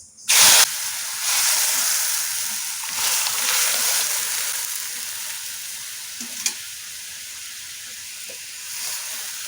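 Mung dal hits hot oil already sizzling with dried red chillies and cumin, bursting into a loud hissing sizzle that settles into steady frying with faint stirring clicks.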